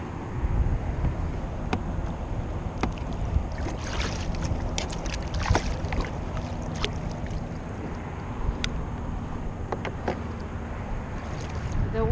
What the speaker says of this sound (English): The wind is picking up.